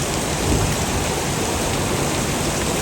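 Heavy rain pours down steadily in a dense, unbroken roar, with thunder rumbling low beneath it throughout a rainy holiday storm.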